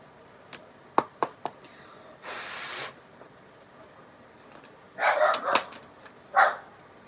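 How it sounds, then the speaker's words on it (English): A puppy gives a few short, sharp barks and yips, scattered and fairly close, with quiet gaps between them and no speech over them. "This puppy. She is such a talker."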